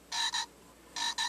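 A toy frog sounds two paired bursts of buzzy, electronic croaking, each pair quick and evenly spaced, close and clear against a quiet room with no talking.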